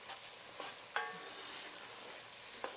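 Onions cooking on medium-high heat for a chicken and sausage Creole gumbo, a quiet, steady sizzle punctuated by a few scrapes and metallic clinks of stirring, close but faint.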